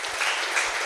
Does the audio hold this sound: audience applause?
yes